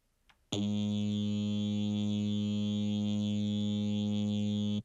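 After a brief click, a single sustained synthesizer tone starts abruptly and holds steady and bright, rich in harmonics, until it cuts off.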